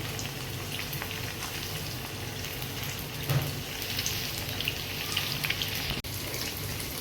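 Chicken lollipops fry in oil in a small pan, giving a soft, continuous crackling sizzle at low volume with a few faint pops and no talking.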